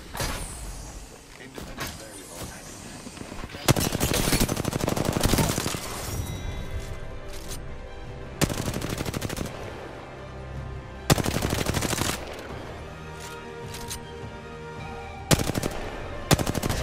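Automatic weapon fire in the Apex Legends video game, loud bursts of rapid gunshots repeating several times between quieter stretches of game ambience, with no talk over it.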